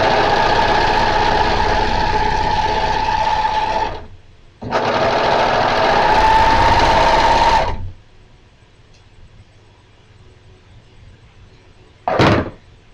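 Sewing machine finishing the raw edges of a dress, running loud and steady in two long bursts separated by a short pause, then stopping, followed by near silence and a brief sharp clunk.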